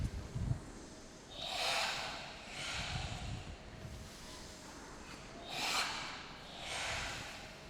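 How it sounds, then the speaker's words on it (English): Breathing during a Japanese-style breathing exercise focused on the lower belly: several slow, close breaths, long airy rushes spaced a couple of seconds apart, with a soft low thump near the start. "that's what we're hearing very clearly there, the breathing"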